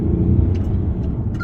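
Mercedes-Benz CLS 400d diesel sedan accelerating in sport plus mode, a steady, moderately loud engine rumble from inside the cabin, with no voices.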